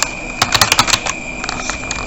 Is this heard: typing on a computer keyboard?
yes